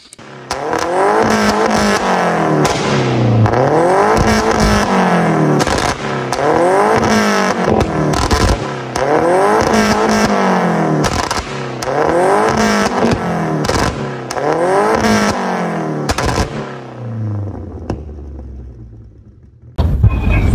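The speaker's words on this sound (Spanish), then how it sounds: "Este auto cuenta totalmente con un full system. Lo que ya le van a escuchar suena súper," Tuned Volkswagen Gol with a full-system exhaust, revved hard again and again in rising and falling sweeps, loud and close, ending in a falling idle and a brief pause before a final blip.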